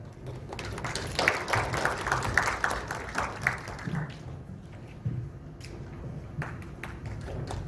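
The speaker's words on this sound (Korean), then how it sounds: "큰 박수로 환영해 주시기 바랍니다" Audience at an academic government accounting conference clapping to welcome a speaker, moderate applause building then thinning out, with a few scattered claps near the end.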